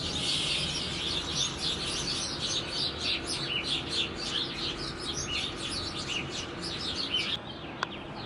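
Many small birds chirping outside a coffee shop, a busy chorus of quick bright tweets repeating close by and fairly loud, with no talk over them.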